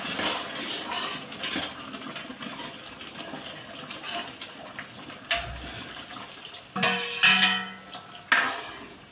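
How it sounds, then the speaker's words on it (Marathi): Hot water stirred into dal with eggplant in a pot, a Gadchiroli-style dal vange: soft liquid swishing and scraping, with sharper clinks of a spoon against the metal vessel near the end, close and moderately loud. "आता आपण ते गरम पाणी थोडं घालून देऊ त्याच्यात. एक वेळ मिक्स करून घेऊ."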